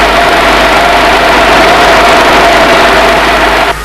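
Hydraulic winch motors on a crane run with a steady, loud mechanical hum and a constant whine, unbroken for a few seconds before cutting off at the end.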